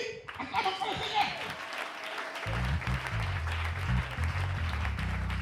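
A church congregation claps and cheers in praise of the Lord at a French-language worship service, with rhythmic clapping and crowd voices under loud music that kicks in partway through.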